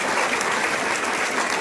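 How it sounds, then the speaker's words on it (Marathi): Applause for the headmaster at a school children's poetry gathering, a dense, loud burst of clapping from a crowd that stays steady for the whole moment. "म्हणून आदरणीय मुख्याध्यापकासाठी मोठ्याने टाळ्या."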